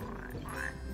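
A frog croaking in Final Fantasy XV, a short low throaty croak rising briefly in the middle of a quiet, murky game soundscape.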